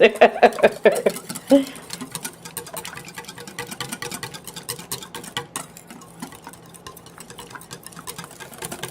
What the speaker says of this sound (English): And now we get to whisk away.